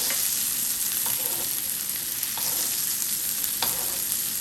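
Steak basted with butter in a hot pan gives a dense continuous sizzle and spatter close up, broken by a few soft spoon or pan knocks, with no voices.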